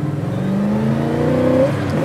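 A 1966 Chevrolet Chevelle accelerating hard, its engine note climbing steadily in pitch as it pulls away, loud and continuous for a couple of seconds.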